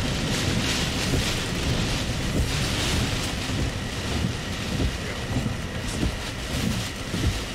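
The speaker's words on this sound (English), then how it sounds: "the wind just kicked right back up once we get out of that little area" Strong Tropical Storm Gordon winds roar steadily and loudly across an outdoor microphone, a constant broadband buffeting with gusty surges and no voices.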